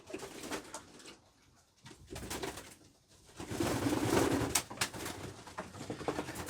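Racing pigeons coo in a loft during bath time, with overlapping soft throaty calls rising into a fuller chorus. Wing flutters and splashing water mix in nearby.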